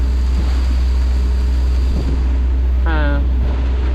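Strong wind of over 30 knots roars steadily against the microphone on a sailboat in shallow water, with waves sloshing beneath it; a short voiced sound breaks through near the end.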